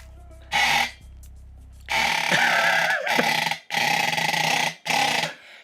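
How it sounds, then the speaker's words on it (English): Odd duck-like sound effect in a short sequence of harsh, nasal honking bursts, one brief call followed by four longer squawks with pitch wobbles, loud and close, with no talking. "They liked the weird duck sound better than just like the weird other mount I had."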